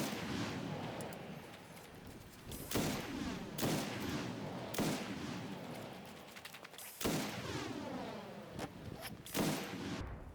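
Gunfire in Fallout 76 as enemies are shot, with about seven separate loud sharp reports at irregular intervals, each followed by a ringing decay over a low background rumble.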